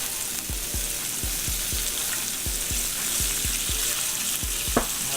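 Asparagus sizzles steadily in olive oil in a pan, a continuous close frying hiss with regular soft low knocks beneath it and no talking.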